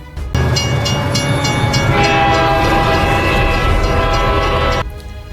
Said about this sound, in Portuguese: esperando o trem passar